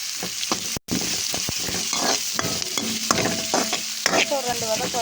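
Ginger and garlic sautéing with onion and mint in a pan, a steady close sizzle broken by repeated stirring scrapes and clinks, with one brief dropout early on.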